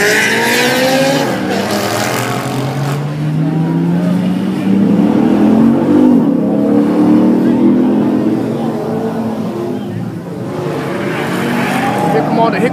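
Honda Civics rev their engines at an outdoor spring car show, a loud continuous engine roar rising and falling in pitch over nearly thirteen seconds, with crowd noise and shouting voices mixed in.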